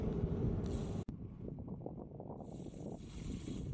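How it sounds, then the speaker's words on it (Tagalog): Gusty wind buffets the microphone with low rumbling, broken by a brief sharp dropout, then continues steadily with faint hiss. "sobrang hangin."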